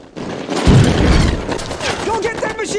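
Gunfire from a battle scene in the TV war series Band of Brothers, a loud dense burst of rapid shots and booms with shouting voices, heard through a speaker as people talk over it.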